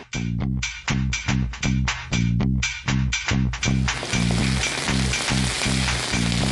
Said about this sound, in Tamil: இப்போது கொஞ்சம் வெங்காயத்தை ஆட் பண்ணுறேன்.